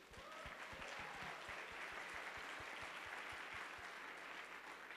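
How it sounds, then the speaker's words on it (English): Steady, even applause from a pageant audience fills the space, a dense wash of clapping heard at moderate distance with no voices over it. "Please give them all a round of applause."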